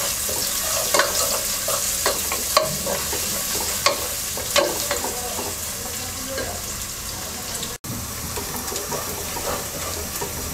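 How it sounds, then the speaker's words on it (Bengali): Chopped onions fry in a pan with a continuous soft sizzle, while a spoon stirs and taps against the metal now and then, close and moderately loud. "পেঁয়াজটাকে হালকা ভেজে নেব।"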